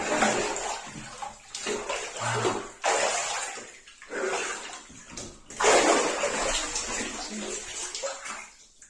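Hot water at about 42 degrees sloshes and splashes in a Japanese ofuro bathtub in repeated surges separated by brief pauses, close and fairly loud.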